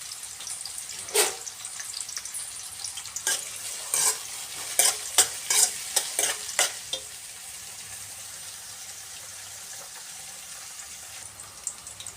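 Chopped onions and green chilli pieces fry in oil for a Telugu greens curry, a steady soft sizzle broken by a cluster of sharp stirring clatters near the middle, close and without talk.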